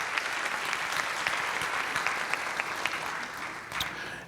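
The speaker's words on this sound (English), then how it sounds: "So everybody should give themselves a round of applause for the great work." Staff at a city schools convocation applaud together, a full, sustained wash of many hands clapping that holds steady and starts to taper near the end.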